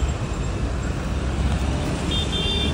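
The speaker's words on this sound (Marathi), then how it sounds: "आज लय ट्रॅफिक आहे र." Steady road traffic noise fills a busy junction at Kanbe Chowk, a dense continuous wash of engines and tires, fairly loud and close, with a faint horn toot near the end.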